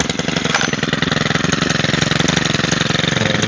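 A small engine on a lawn drainage machine runs close by with a rapid, steady chugging pulse, loud and uninterrupted throughout.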